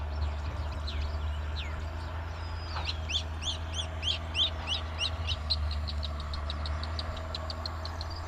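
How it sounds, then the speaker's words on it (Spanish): Small bird calling outdoors with a rapid series of high chirps and trills in the middle, fairly faint over a steady low engine hum. "mira el pajarito"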